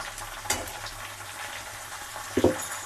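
Chopped onion fries in hot oil for a Malvani crab curry, a soft steady sizzle with a couple of brief louder stirring scrapes, no voices.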